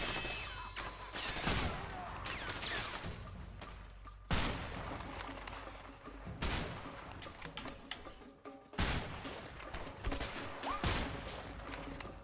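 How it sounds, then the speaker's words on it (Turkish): Gunfire in the video game A Way Out, with repeated bursts of shots and sharp cracks arriving in uneven clusters, some loud and close, others fainter, amid battle noise. "nereden vuruyor?"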